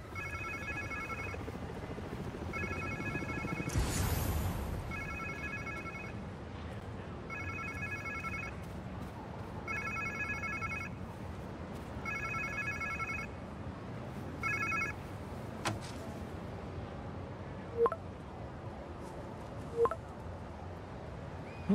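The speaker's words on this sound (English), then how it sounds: "Sounds like somebody's phone." Phone ringing in the Spider-Man Miles Morales video game, a repeating electronic ring in regular bursts with quiet ambient game sound and a few sharp hits toward the end.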